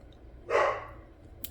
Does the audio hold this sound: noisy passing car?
no